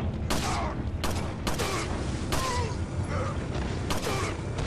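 Handgun shots ring out in Resident Evil 4, about five loud, evenly spaced single cracks, each with a short echoing tail over a steady low background.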